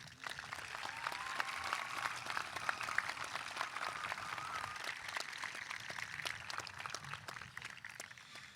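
A commencement audience at Tabor College applauds graduates, a fairly distant, steady wash of clapping that holds evenly throughout with no voices standing out.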